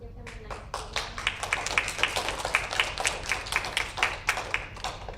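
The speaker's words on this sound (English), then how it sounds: "applause." Audience applause at a book reading in the Woodward Park Regional Library, a steady run of close, crisp hand claps from a small indoor crowd lasting about five seconds.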